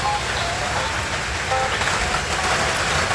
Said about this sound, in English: I don't know if you can hear that rain on the